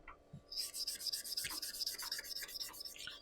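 Hand sanding with sandpaper on a surface, a steady run of quick, close back-and-forth rasping strokes, evenly repeated and fairly loud, with no talking.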